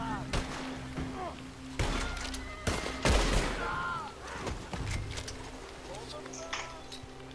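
Scattered gunshots in the video game Red Dead Redemption 2 Online during a raid on Fort Wallace, sharp single cracks at irregular intervals mixed with other game sounds, while players talk throughout.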